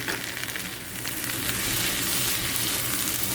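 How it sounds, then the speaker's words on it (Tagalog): Tomatoes sautéed with onions in a pan for a radish and egg dish produce a loud, steady sizzle with crackling spatter, swelling slightly partway through as the pieces settle into the hot oil. "Isote din natin tong kamatis."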